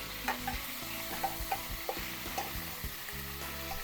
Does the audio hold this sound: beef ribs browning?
yes